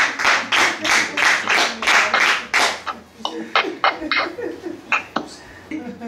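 Wedding guests clap and cheer for the gathered family, starting with a series of loud rhythmic claps, then scattered, uneven claps continuing alongside voices at close range.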